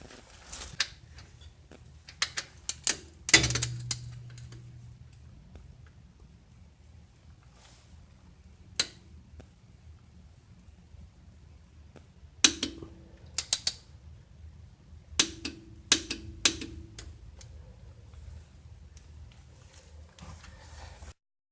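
Scattered ratcheting clicks and short creaks from a torque wrench tightening a differential plug to 36 foot-pounds on a Toyota Camry, with quiet gaps between brief bursts of mechanical clicking.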